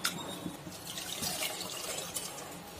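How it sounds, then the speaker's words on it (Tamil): Water splashes and trickles steadily for a few seconds into a clay pot while making fish curry, a close, continuous pouring sound with small gurgles and drips. "இந்த மிக்ஸி ஜார் கலவுன தண்ணியும் இதுல ஆட் பண்ணிக்கலாம்"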